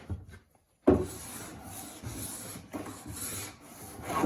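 A Stanley No. 3 hand plane, its sole waxed with candle, shaves wood in a series of smooth, airy rubbing strokes. They follow right after a brief silence and are close and moderately quiet.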